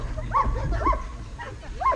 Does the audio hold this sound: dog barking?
yes